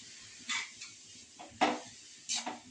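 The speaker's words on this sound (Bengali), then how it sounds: "এই গাজরটাকে খুব ভালো করে নেড়ে চেড়ে ভেজে নিতে হবে" Grated carrots for sugar-free carrot halwa being stirred and fried in ghee in a pan over full flame, with scattered scraping and clinking strikes of a utensil against the pan, several sharp knocks spaced irregularly.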